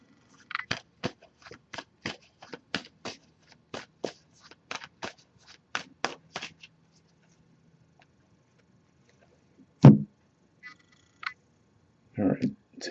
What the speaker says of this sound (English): So I'm just going to give this a few shuffles now.